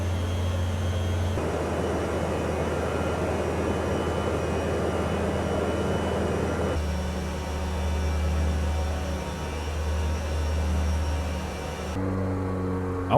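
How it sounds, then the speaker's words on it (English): Small aircraft engines drone steadily in flight over Guadeloupe near the volcano, a continuous loud cabin hum with a steady low tone throughout. "The engines are not shutting off."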